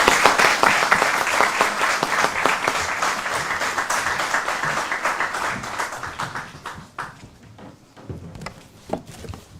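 Audience applause welcoming the Chief Minister at an evening event at Oxford University, London: loud, dense clapping from a crowd that gradually thins out into scattered claps.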